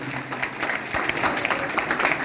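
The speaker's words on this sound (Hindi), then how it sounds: "जोरदार ताली बजाइए।" Audience applause fills a birthday celebration gathering in Sabhapur honouring a religious figure, steady clapping from a crowd throughout, fairly loud and continuous with no speech over it.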